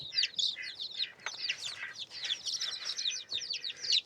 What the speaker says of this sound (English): Now we got some chickens.